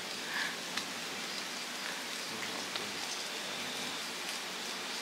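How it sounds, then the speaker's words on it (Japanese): Heavy rain pours steadily outside Kamikura Shrine in Shingu, Wakayama, a dense unbroken hiss with occasional sharper drips, close and even throughout. "今すごい雨降ってるんですけどね"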